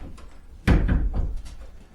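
A plexiglass sliding door on a homemade plywood fume hood moves and thumps closed, a sudden knock followed by a few softer rattling bumps, close by and with no talking.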